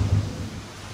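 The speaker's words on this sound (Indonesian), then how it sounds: "Hari pun hujan." Rain with a low rumble of thunder during outdoor work on a Sym VF3i 185 scooter, a deep rolling roar filling the second and fading slightly under steady rainfall hiss.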